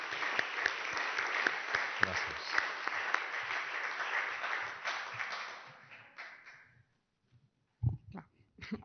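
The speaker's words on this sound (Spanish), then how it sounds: "un aplaudiment per l'Anna" An audience claps for Anna at a poetry and literature event, sustained dense applause that fades away, followed by a brief spoken thank-you and a few small noises.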